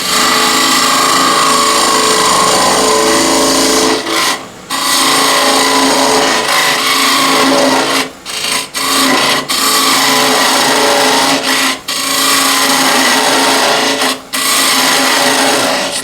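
A wood lathe hollows a walnut spatula pot with a steady, loud whine and scraping tool noise, broken by several brief pauses where the cut lifts off.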